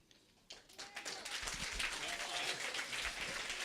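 Applause for prize winners at a school spelling award ceremony: scattered claps, then a full room of clapping that swells quickly and holds at a steady, dense level, with a few voices faintly underneath.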